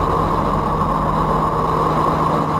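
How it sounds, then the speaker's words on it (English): A Type 212A submarine runs on its conventional diesel engine, giving a steady, loud, unbroken mechanical drone with a constant low hum and no voices. "This is what the 212 Alpha sounds like when using its conventional diesel engine."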